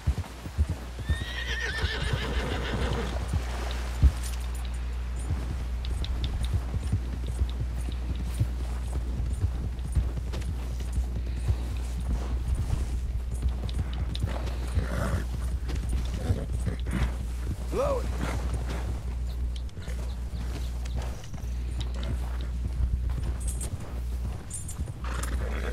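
In Red Dead Redemption 2, a horse whinnies early on, and hooves clip-clop steadily over a low rumbling game ambience for the rest of the stretch, with no one speaking.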